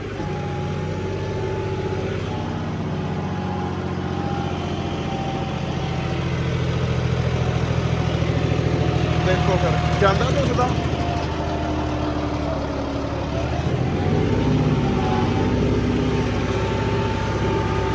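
A new John Deere 5210 4x4 tractor engine runs steadily at a low, continuous rumble throughout, with someone talking over it.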